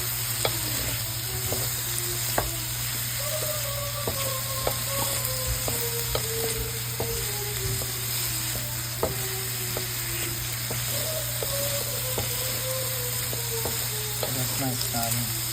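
Onions fry and caramelize in a pan for jajangmyeon, a steady close sizzle broken by frequent sharp clicks and scrapes of stirring throughout.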